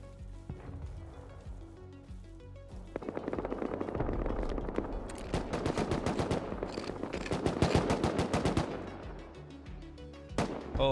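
Video-game gunfire during a raid: bursts of rapid automatic fire and heavy shots, some distant and some close, build into a dense fusillade before breaking off near the end.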